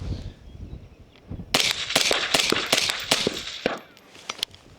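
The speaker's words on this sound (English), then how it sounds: "we'll see with this 6 shot string how that is" A 5.56 rifle fitted with a suppressor fires a fast string of about five loud, sharp shots. The shots come in quick succession after a quieter lead-in, and nobody speaks.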